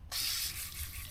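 Water sprays over a filleted snapper as it is rinsed, a sudden steady hissing rush that starts abruptly, close and continuous.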